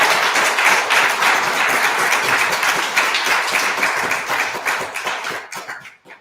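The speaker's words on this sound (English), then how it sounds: "we get to just give him a big round of applause" Audience applause for a ministerial intern at a Riverside church service, steady dense clapping that holds for about five seconds, then thins out and fades away.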